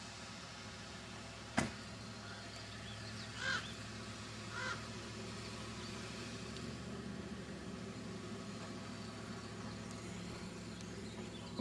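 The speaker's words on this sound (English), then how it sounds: "What's with these crows here?" Crows near a dry lake outside Carson City, Nevada, give a few faint distant caws against a steady rumbling background, with one sharp knock early on.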